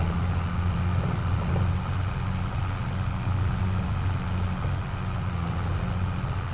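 Tractor engine in the Farming Simulator 22 game running with a steady, low, droning rumble at an even level throughout, with no voices.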